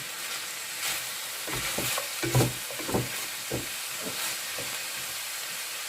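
Chopped chayote tipped into sautéing ground meat in a home-kitchen pan, a steady bright sizzle with bursts of scraping and stirring as the pieces hit the hot oil, close and alone without talk.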